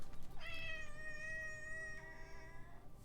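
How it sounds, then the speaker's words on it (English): A kitten gives a single long, drawn-out meow that rises and then trails off, plaintive and mournful, with faint background noise and no talking. "Hey, kitten. I know, you just sound so sad, little kitten."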